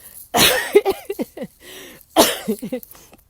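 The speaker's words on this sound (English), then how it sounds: "I got another cough" Two sharp coughs, one near the start and another about two seconds later, each followed by short throaty vocal sounds, close to the microphone.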